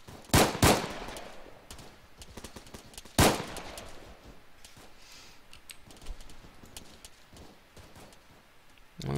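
Rapid gunfire in a video game: two loud bursts of shots near the start and another sharp burst around three seconds, followed by scattered quieter distant shots through the rest.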